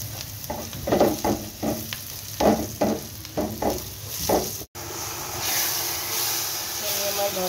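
Dried fish and bottle gourd peel bharta frying in a pan: a steady hissing sizzle broken by rhythmic scraping stirs in the first half, then a smoother continuous fry, moderately quiet and close.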